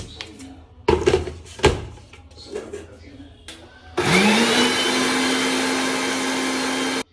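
A kitchen blender grinding bananas for a banana shake: after a few knocks and brief talk, the motor kicks in with a loud, steady whirring that holds for about three seconds and then cuts off abruptly.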